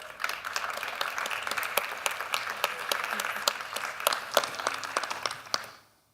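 An audience at a talk gives steady applause lasting several seconds, dense overlapping claps that fade out at the end.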